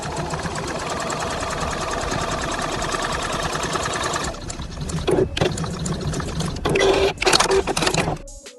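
Sewing machine stitching colourful fabric scraps and denim for a rag tote, a steady rapid mechanical whir that runs continuously, then breaks into shorter bursts with brief pauses as the seam is backstitched.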